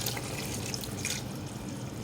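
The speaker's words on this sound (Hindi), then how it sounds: "हाफ कप मैं पानी डाल लूँ इसमें," Half a cup of water is poured into cooking chicken masala, giving a short, close splashing and trickling sound with no speech.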